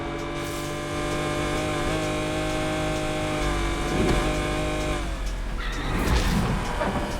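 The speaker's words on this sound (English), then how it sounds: "I'm driving a heavily modified Countach" A heavily modified Lamborghini Countach driving in NFS Unbound, a steady close engine drone holding pitch, then a rougher surge with tire noise toward the end, with no talking.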